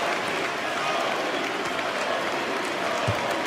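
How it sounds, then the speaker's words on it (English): A basketball crowd at Fiserv Forum in Milwaukee applauds as it rises before a Bucks game against Washington, a broad, steady wash of clapping and crowd noise that stays even throughout. "to the applause and appreciation of the crowd, which now rises in Fiserv Forum"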